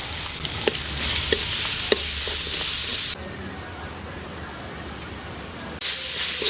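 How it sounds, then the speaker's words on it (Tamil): A country chicken gravy base of onion, tomato and ginger-garlic paste sautés in oil, a continuous loud sizzle broken by scraping stir strokes, easing to a quieter hiss midway before flaring up again. "தக்காளி எல்லாம் நல்லா வதங்கிருச்சு. பாருங்கள், எண்ணெயெல்லாம் நல்லா பிரிஞ்சு வந்துருச்சு."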